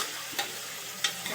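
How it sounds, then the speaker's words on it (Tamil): Tomatoes sautéing in a pan for sambar, after garlic has already been fried: a quiet, steady sizzle with a few soft scraping clicks from stirring. "அடுத்து வந்து நம்ம வந்து தக்காளி போட்டு வதக்குறோம்"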